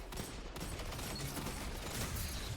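Dense rapid gunfire from the Destiny 2 video game, a continuous fusillade of overlapping shots at moderate loudness with no pauses and no talking.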